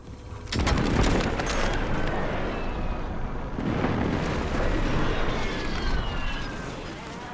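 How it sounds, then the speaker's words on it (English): Heavy airstrike explosions in the Call of Duty Warzone video game: a loud blast at the start and another midway, each followed by a long rumbling roar with scattered crackling debris. "Hostile airstrike incoming."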